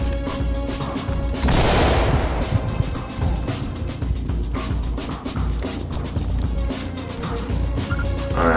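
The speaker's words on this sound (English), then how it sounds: "And they're shooting at us already." Enemy gunfire in the tactical shooter Ready Or Not: a dense, continuous spread of rapid shots and cracks runs throughout, with one loud burst near the start, set against a busy game soundscape.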